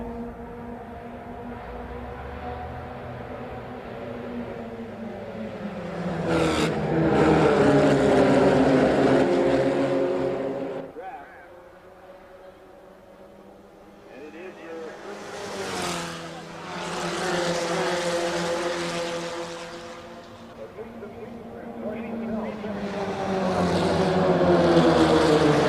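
Formula Vee race cars roar past in waves during a national championship runoff race, engine noise swelling loud as the pack passes, fading, then building again, with a commentator talking over parts of it.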